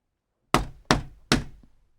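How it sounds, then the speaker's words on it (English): Three firm knocks on a shop door, evenly spaced and close, each a sharp thud fading quickly, with silence before and after. "Finally, he knocked on the shop door."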